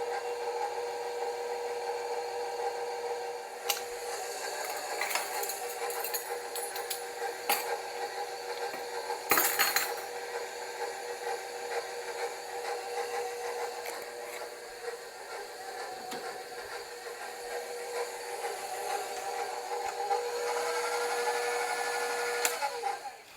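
Electric stand mixer running gently through carrot cake batter at home, a steady continuous whir with scraping and rubbing texture, brief knocks along the way and a slight rise in loudness toward the end; no talking.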